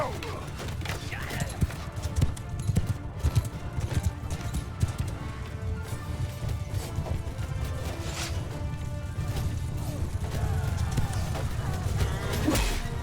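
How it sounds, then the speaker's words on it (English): Horses galloping in a Mount & Blade II Bannerlord battle, a dense rapid drumming of hooves mixed with clashing and battle noise, with a voice speaking over it throughout. "Horses!"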